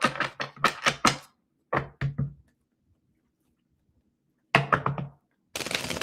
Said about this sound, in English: Let me get a few shuffles here.